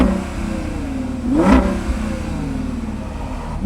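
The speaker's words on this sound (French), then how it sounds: "Ce moteur-là, il a une jolie sonorité." A Porsche Cayenne on an autoroute swells as it accelerates past, a brief rising engine surge peaking midway then fading back into a steady background of road and traffic noise.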